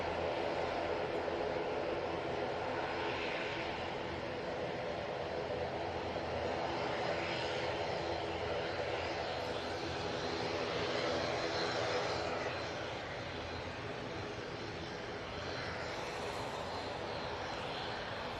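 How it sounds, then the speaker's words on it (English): An Aer Lingus airliner departing Manchester Airport gives a steady, distant engine roar that swells and fades slightly across the stretch, moderately faint with no voices. "Beautiful departure from that Aer Lingus"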